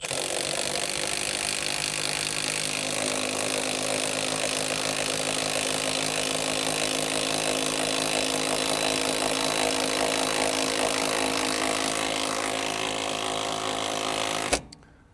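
Steady loud mechanical whirring runs continuously while an AGM manual jack lifts a Kawasaki H2 motorcycle, then cuts off abruptly near the end.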